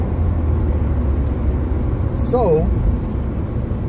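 A car driving on a freeway gives a steady, loud engine and road rumble throughout, heard from inside the car, with a brief voice partway through.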